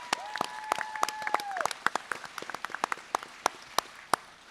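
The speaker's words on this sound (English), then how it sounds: "Big round of applause for those guys." Audience applause at a gun convention panel, sparse and scattered claps spreading out and thinning over several seconds, with a brief tonal sound near the start.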